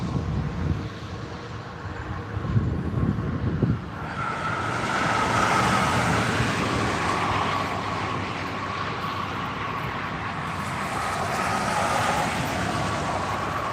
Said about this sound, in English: Race cars coming through.